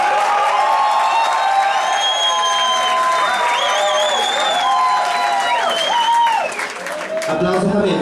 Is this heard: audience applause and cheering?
yes